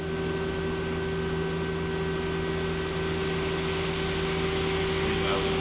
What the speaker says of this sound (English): Spindle's nice and quiet.